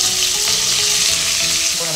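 Chicken thighs sizzle and crackle loudly in hot oil in a pot, skin side down, a dense, steady frying hiss close up.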